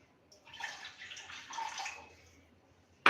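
Half a cup of water is poured into a pan of oil for Bhavnagari gathiya dough, a steady splashing pour lasting about two seconds in a quiet kitchen, ending with a sharp clink.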